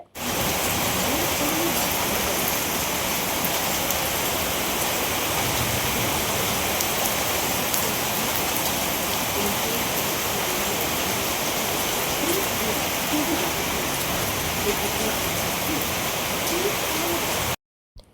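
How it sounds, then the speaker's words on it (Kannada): Heavy rain pours down in a dense, unbroken roar, with gusting wind blending in, steady and loud throughout before cutting off abruptly. "ತುಂಬ ಅಂದರೆ ತುಂಬಾ ಜೋರು ಮಳೆ ಬರ್ತಿದೆ"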